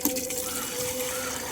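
Water pours into a container in a brief, steady stream, a soft continuous gush close by with no other sound over it.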